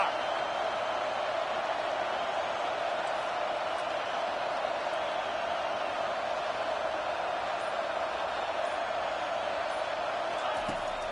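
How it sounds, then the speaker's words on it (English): Stadium crowd roaring at a Texas vs Ohio State football game during a fourth-down play, a loud, sustained wall of noise holding steady throughout. "This crowd busting the decibel meter and trying to will a fourth down stop"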